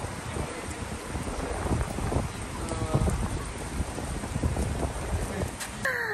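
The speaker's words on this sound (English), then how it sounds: "But I'm just now getting rained on." Rain falls outdoors in a steady hiss of drops mixed with gusty wind buffeting the microphone, continuous and close, with no talking.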